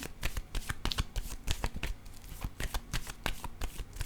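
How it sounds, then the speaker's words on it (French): Tarot cards are handled and laid down during a card reading, with a steady run of quick, close papery flicks and slaps that sound much like shuffling. "Je vais déposer une carte sur cette personne."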